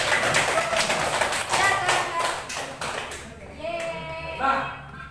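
Students in a classroom clap their hands together in a quick burst of overlapping claps, with voices talking through it as the clapping fades out.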